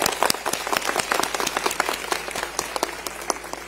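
Loud, steady applause from an audience at a public gathering, dense clapping filling the whole stretch with no voices over it.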